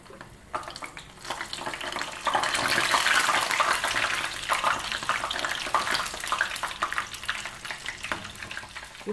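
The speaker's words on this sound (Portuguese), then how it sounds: "Ó, e aqui eu já vou colocar para fritar. O óleo já tá quente." Potato snack pieces frying in hot oil in a home kitchen, a steady bubbling sizzle that swells after a couple of seconds and then holds at a constant hiss, with no talking.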